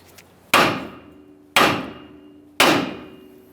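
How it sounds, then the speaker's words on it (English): Three firm hammer taps land on the steering knuckle of a 2015-2020 Ford F-150, evenly spaced about a second apart, each a close metallic strike that rings out briefly. "I'm going to lightly tap on this area with a hammer."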